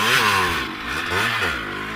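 A moped engine runs loud and close, its pitch rising and falling as it revs with a buzzy, rattling tone and no voices.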